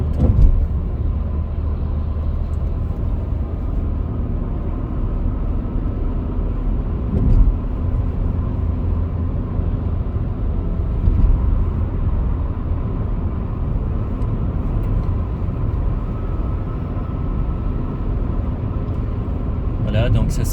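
A car drives along a road near Geneva with other traffic following behind, heard from inside as an unbroken low rumble of engine and tire noise at a steady level.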